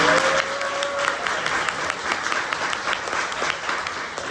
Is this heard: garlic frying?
no